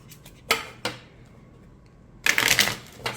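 An oracle card deck with rose-petal cards is shuffled by hand, giving two quick riffling snaps, a quiet pause, then a louder, longer riffle-and-bridge flurry close by.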